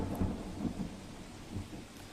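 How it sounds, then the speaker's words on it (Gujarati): Heavy monsoon rain pours over Majethi village near Dhoraji in Rajkot, Gujarat, with thunder rumbling low and continuous beneath the steady wash of rainfall, close and fairly loud, with no voices. "ગામમાં ધોધમાર વરસાદ પડી રહ્યો છે"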